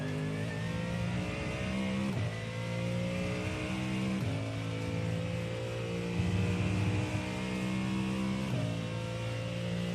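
A race car engine in the iRacing sim racing game roars continuously, climbing in pitch through repeated upshifts, each marked by a brief dip before the rasping note rises again.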